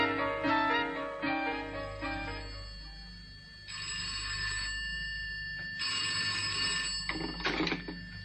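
Telephone bell ringing in a radio drama, several bursts of bright ringing separated by short pauses, fairly faint, over a low steady hum with no voices.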